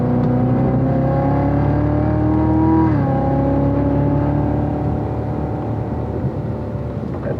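A race car on the Spring Mountain track holds a steady, loud engine note that dips briefly with a gear change, then settles back into sustained throttle close by, with no talking.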